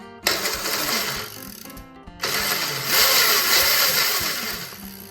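A homemade electric dirt bike is switched on with a key, and a loud whining motor hum starts up, drops away briefly, then resumes strongly and holds steady.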